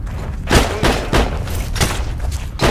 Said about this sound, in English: Oh, yeah, you see gunshots.